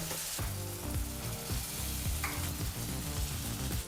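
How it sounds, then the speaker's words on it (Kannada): A ground masala paste, blended in a mixer jar for masala lemon rice, fries and sizzles loudly in a pan, with repeated scraping strokes of a stirring spoon cutting through the steady crackle. "ಮೊದಲೇ ಮಿಕ್ಸಿ ಜಾರದಲ್ಲಿ ರುಬ್ಬಿದಂಥ ಮಸಾಲೆ ಪೇಸ್ಟನ್ನು ಹಾಕೋಬೇಕಾಗತ್ತೆ"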